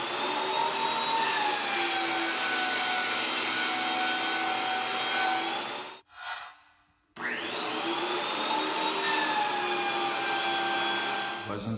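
Shop Fox W1877 thickness planer feeding a 7¼-inch-wide, 18½-inch pine board, a loud steady roar with a high whine that cuts out briefly midway, then resumes for a second pass.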